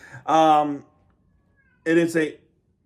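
A pet cat meows twice, two separate drawn-out cries, loud and close, with a short quiet gap between them and no talking.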